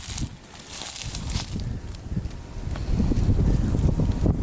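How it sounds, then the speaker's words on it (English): Gusty wind buffeting the microphone, rumbling low and rising stronger toward the end, with no voices. "It's so windy."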